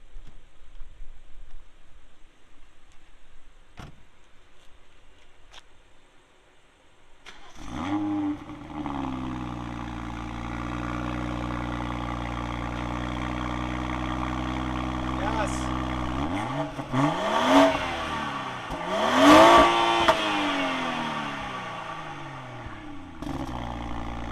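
A BMW X3 M40i sits in park as its engine starts up and settles into a loud, steady idle, then gets revved sharply a few times near the end. The revs arrive as rising and falling roars close by. Quiet talk comes before the engine starts.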